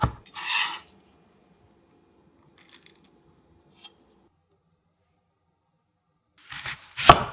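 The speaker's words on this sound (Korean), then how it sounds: "깔끔한 맛을 완성해주는 통마늘 2개는 살짝 굵게 다져서 공중팬에 바로 담고" A knife coarsely chops two whole garlic cloves, heard as a few short bursts of sharp blade taps on a board separated by long quiet gaps, with a louder cluster at the end.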